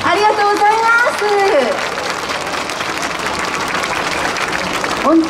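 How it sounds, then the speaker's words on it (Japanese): A crowd at an outdoor bon dance party at Ikebukuro Station's west exit gives loud, sustained applause for the Imagine Bon Odori club, with a voice speaking over it at the start and again at the end. "イマジン盆踊り部の皆さんにもう一度大きな拍手をお願いいたします"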